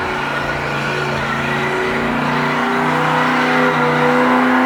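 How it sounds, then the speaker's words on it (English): A 1968 Dodge Coronet with a 440 engine does burnouts outside a garage open house, its engine holding a loud, sustained roar that climbs gradually in pitch as it revs. "It's a 68 Dodge Coronet with a 440. Doing some burnouts outside there."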